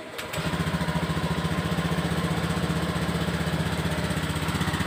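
A 2019 Honda Beat FI scooter engine idles steadily after a brief opening knock, making a close, even, pulsing putter that stays constant, with no talking.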